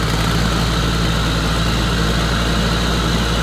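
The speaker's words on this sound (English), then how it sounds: "The engine is running smoothly without smoke." A John Deere 6068 diesel engine idles steadily after timing gear installation, a loud, even, continuous low rumble with no break and no voices.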